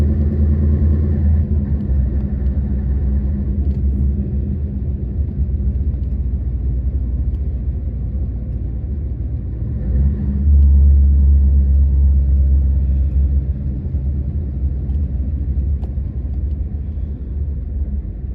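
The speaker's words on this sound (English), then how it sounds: "Cars everywhere." Road traffic rumbles along a busy route near the Danish border, cars passing in a steady low drone with a heavier vehicle swelling louder around the middle before easing off.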